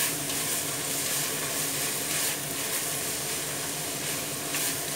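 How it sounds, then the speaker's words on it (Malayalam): Onion, green chili, garlic and ginger sauté in a pan with a steady, soft, continuous sizzle and faint crackle, with no voices. "ഇനി ഇതിനെ നന്നായിട്ട് വഴറ്റിയെടുക്കണം."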